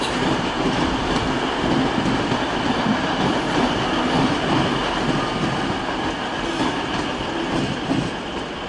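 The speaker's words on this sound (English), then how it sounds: "There's a regional service, or a regional train." An empty regional train approaches München Hauptbahnhof with a steady loud rumble of wheels on rails, faint clatter and a touch of squeal running through the whole stretch.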